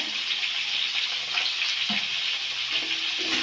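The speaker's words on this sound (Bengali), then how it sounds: "আর আলুগুলো ওই তেলে ভেজে নেব।" Potato pieces fry in hot oil with salt for a Bengali fish-and-potato dish, a steady close sizzle with occasional stirring clinks and no talking.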